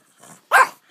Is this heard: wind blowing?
no